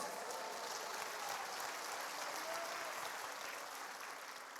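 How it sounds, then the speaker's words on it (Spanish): Congregation clapping during a church sermon, a faint, even wash of many hands heard from a distance and held steady without pauses. "Dale palmas a Jesucristo."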